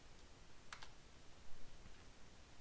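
Quiet typing on a computer keyboard, entering a command at a Windows prompt: a quick pair of sharp key clicks followed by a fainter tap, close and soft against low background hiss.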